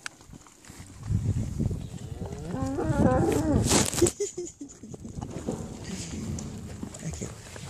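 Cows moo on a farm with horses nearby, one long drawn-out low call rising and falling in the middle, with people talking before and after it outdoors.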